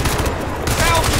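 Rapid gunfire from a first-person shooter video game, Crysis 2, sustained and dense throughout, loud and close with continuous battle noise.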